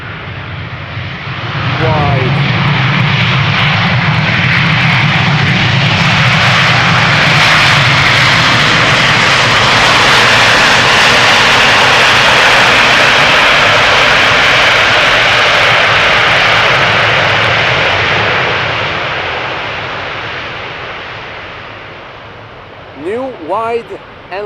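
A jet airliner on approach to Schiphol Airport's runway 18 right swells into a loud, broad engine roar that holds steady for most of the span, then fades, with faint talk near the end.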